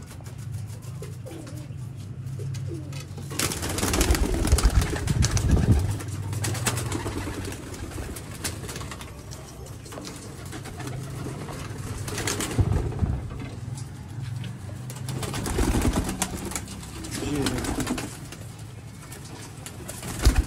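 Sharmeela pigeons, a pure breed from a loft in Sialkot, coo in soft repeated low throaty phrases up close, with some wing flutters, rustling and short bursts of louder activity.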